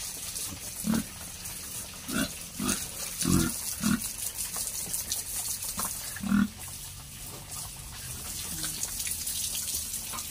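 Pigs feed at an auto feeder in a farm pen, grunting and snuffling in scattered low bursts over a steady wet, rattling background of chewing and movement.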